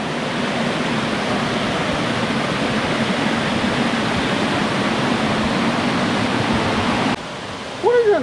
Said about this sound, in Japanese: 明らかにこれでしょ、滝って。